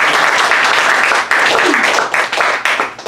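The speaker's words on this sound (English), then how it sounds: "Aracelis Girmay, you can clap." Audience applause at a poetry reading in a salon setting, steady dense clapping from a crowd that continues throughout with slight swells and dips, with no speech over it.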